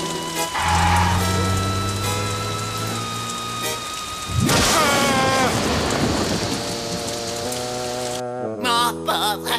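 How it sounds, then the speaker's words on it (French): Heavy pouring rain with a rumble of thunder in a cartoon scene, a steady wash of downpour under music and sound effects. "Il pleut des hallebardes."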